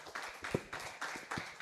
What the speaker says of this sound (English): please give another applause for Aka Sensei